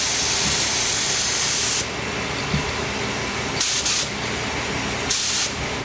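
A Harbor Freight paint spray gun sprays clear coat at 30 PSI, giving a loud, steady close hiss that cuts off and then resumes in several shorter bursts.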